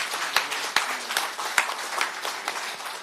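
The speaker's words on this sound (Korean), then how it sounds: "감사의 박수 부탁드리겠습니다" Audience applause for a party leader at a political rally, a steady crowd clapping with scattered sharper claps, moderately loud and continuous throughout.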